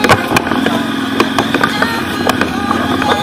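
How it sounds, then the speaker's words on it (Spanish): A motorcycle engine running close by on a Trans-Pyrenees trip, a rough rumbling drone with sharp clattering knocks and small surges in revs. "Va la moto para todos los sitios."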